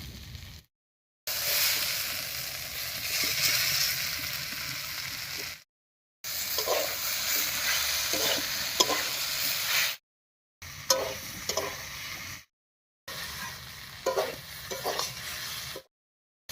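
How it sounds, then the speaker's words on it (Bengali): Fried potatoes and pointed gourd are stirred into simmering mung dal, with scraping stir strokes and a soft sizzle in several bursts separated by brief silent gaps. "আলু পটল দিয়ে একটু নাড়িয়ে নিয়েছি"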